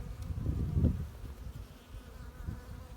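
A low, droning buzz of many Caucasian honey bees swarming close by at a hive, swelling briefly near the start and then holding steady.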